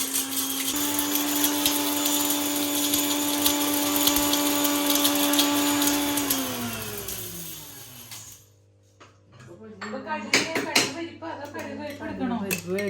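Mixer grinder whirring loudly as it grinds spices such as asafoetida for a mango pickle, a steady motor drone that winds down and stops, followed by talking and kitchen clatter.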